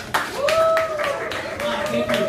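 An audience at an art event gives a round of applause, with scattered clapping under a prominent voice speaking or drawing out a tone throughout.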